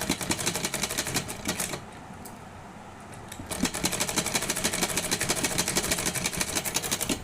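A sewing machine stitches pinned old saree fabric for a gown, its needle clattering in a fast, even close rhythm, pausing for about two seconds midway before resuming at full speed.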